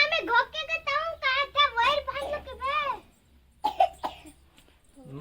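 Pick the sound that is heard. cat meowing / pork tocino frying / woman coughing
woman coughing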